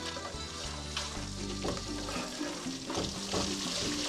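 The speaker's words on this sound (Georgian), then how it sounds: "აურევთ და მერე მოურევთ და გახდება კარაქი" Butter being stirred and sizzling in a pan while making borano, a steady close crackle with occasional scraping accents over a soft tonal background, no talking.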